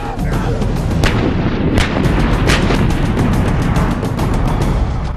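Indian Army artillery fires a sustained bombardment: dense, rapid booms and blasts overlap loudly over a constant rumble, with sharper reports punching through every few moments.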